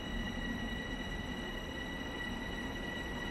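A Long Island Railroad train at Hicksville station in a video game gives a faint, steady rolling rumble with a thin high whine, unbroken and without voices.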